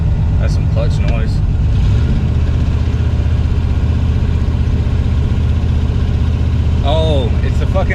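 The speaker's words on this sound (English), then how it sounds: "Oh, it's the fucking exhaust leak." A 1968 Mercury Cougar engine with an exhaust leak idles steadily and loud up close, a low continuous rumble with people talking over it at the start and end.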